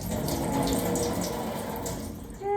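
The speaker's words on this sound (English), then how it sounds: "I'm gonna rinse this, let her dry." Tap water runs steadily over a freshly dyed fabric swatch being rinsed, a continuous close splashing hiss with no talk, easing off slightly at the very end.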